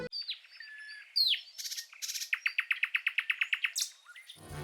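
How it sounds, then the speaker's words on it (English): Songbirds in Finland chirp and tweet close by, a few varied calls giving way to a quick, regular run of repeated bright notes, then a last rising call, with no voices. "Here, even the birds have a Finnish accent."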